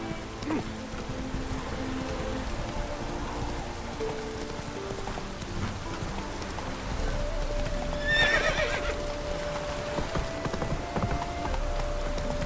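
Horse galloping in the fantasy game The Witcher 3, rapid hoofbeats clopping steadily through rain, with a brief whinny partway through and faint background sounds.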